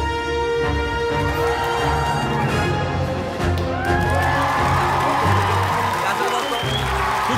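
A studio audience applauding and cheering for a 3-year-old climber, a loud sustained crowd wash of clapping and whoops under music and a speaking voice.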